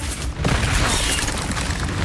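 An Incendio fire spell in the Hogwarts Legacy game bursts out as a loud, close whoosh of roaring flame with a booming onset, then keeps crackling and rumbling for about two seconds.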